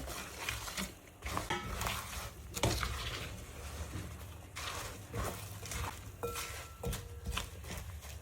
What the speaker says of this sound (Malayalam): ഇനി നമുക്ക് അതിലേക്ക് വറുത്ത് വെച്ചേക്കുന്ന മീനിട്ട്